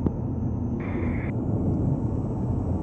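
Alpha Jet aircraft flying knife-edge during a solo display, heard from the cockpit as a steady, loud engine and airflow roar that holds continuously without a break.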